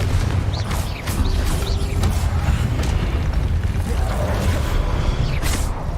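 Confringo fire-spell blasts in the Hogwarts Legacy video game, dense rumbling booms and crackling impacts layered over constant battle noise, loud and close with no pause.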